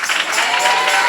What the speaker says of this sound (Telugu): మనందరి మధ్యకి దిగి వచ్చిన పరిశుద్ధాత్మకి గట్టిగా చప్పట్లు కొట్టండి, మంచిగా కొట్టండి, గట్టిగా.